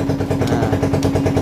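A motorcycle engine runs close by at a steady idle, its pulsing beats repeating rhythmically and loudly for the whole moment.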